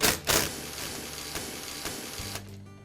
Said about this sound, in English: Now I'll remove the other 5 screws that secure the two halves of the housing together.